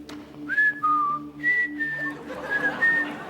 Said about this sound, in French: Il y en a toujours un qui siffle sur cette petite musique.